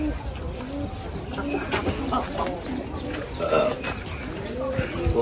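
Pigeons coo from a corner of a house in a quiet village neighbourhood, soft repeated low calls under a person talking, with faint background ambience.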